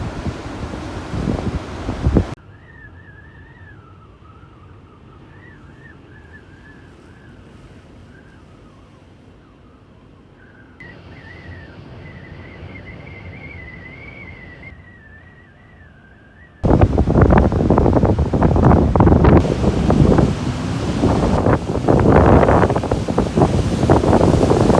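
Wind and ocean surf at Faria Beach on a blustery day, a loud broadband rush opening and closing the stretch, with a quieter middle where a faint whistling tone drifts over low, muffled noise.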